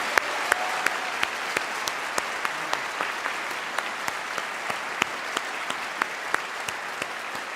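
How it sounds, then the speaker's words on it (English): Applause from the audience at the BAFTA Games Awards ceremony, steady hall-filling clapping with occasional sharp individual claps standing out, moderately distant and without talk. "I'm asking for a round of applause, please, because it's our team in Japan"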